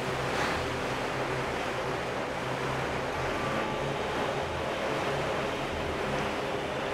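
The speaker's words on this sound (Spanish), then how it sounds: "Pero ahora vamos una vez que esperemos a que suba el agua." Rushing, surf-like water fills the scene in The Legend of Zelda: The Wind Waker HD as the water rises, a steady broadband wash of waves and wind that stays constant throughout with no voices over it.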